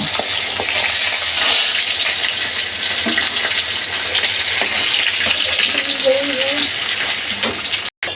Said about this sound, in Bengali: এবার ডালটা আমি জল দিয়ে হাফ সিদ্ধ করে নেব